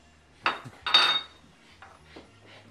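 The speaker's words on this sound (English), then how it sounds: "now we stir our mushrooms back in" Mushrooms are stirred back into a cooking pan for tetrazzini, giving two brisk clattering scrapes of utensil against pan followed by softer, quieter shuffling.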